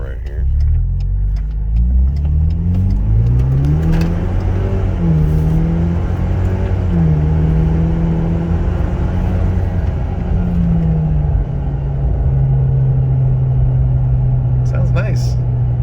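A 2021 Ford Ranger with an MBRP catback exhaust cruising at freeway speed gives a steady, fairly quiet engine drone and road rumble with gentle pitch rises, heard close throughout, and a voice talks over it.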